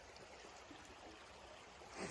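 A creek runs beside a fire access road on a quiet trail, its water rushing and gurgling steadily at a moderate, faint level with no voices over it.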